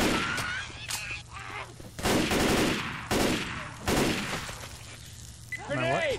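Gunfire in Left 4 Dead 2, several loud bursts of shots a second or so apart over game noise, with players talking in between.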